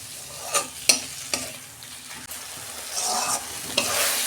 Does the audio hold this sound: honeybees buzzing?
no